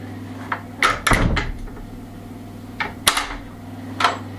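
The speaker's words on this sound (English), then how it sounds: "Put it in, shut the door, just like that." Handmade wooden door in an old corral being opened and shut, several knocks and thuds with a louder closing bang near the middle, close by.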